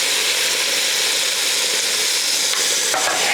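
Seasoned vegetables with salt and pepper sizzle and fry in a pan, a constant close hiss of cooking with a few brief stirring scrapes near the end.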